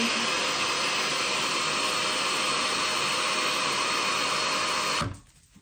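A hair dryer roars with a loud, steady blowing whoosh close by, then switches off abruptly near the end, leaving quiet.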